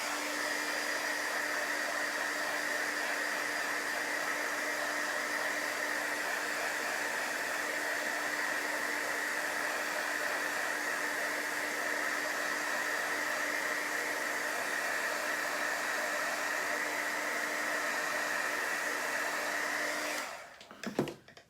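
A hair dryer runs continuously close by to dry paint on a round wooden door hanger, a steady loud whooshing whine for about twenty seconds before it cuts off with a brief handling clunk.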